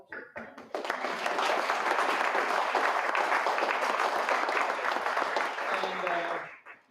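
An audience at a community forum gives a sustained round of applause, loud dense clapping lasting about six seconds before tapering off, with faint voices underneath.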